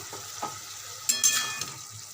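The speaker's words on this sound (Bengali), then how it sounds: "আর একটু নাড়াচাড়া করে দেবো" Shredded cabbage, cooked without spices until its water dries off, sizzles quietly in a pan while a spatula stirs it, with a few scraping clinks and a faint crackle of frying.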